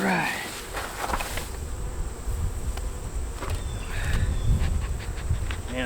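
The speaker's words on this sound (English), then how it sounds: "the bees are so calm." Honeybees from a first-year hive hum in a steady, close buzz that never lets up, with a few individual bees droning past and someone talking briefly over it.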